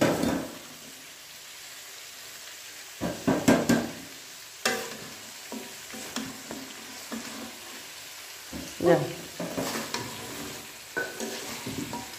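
A home-cooked curry sizzles in a pan while a spoon stirs and scrapes against the metal in bursts, with soft frying crackle filling the quieter gaps between the louder clattering strokes.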